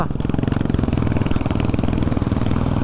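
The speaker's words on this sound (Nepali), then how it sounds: "बाइक तान्नलाई गाह्रो मानिरहेको छ" A motorcycle engine in second gear chugs and labors at low revs, straining to pull, a steady pulsing rumble close by throughout.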